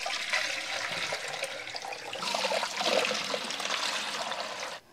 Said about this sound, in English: we're going to put some water down the grey waste pipe that we put in earlier in the video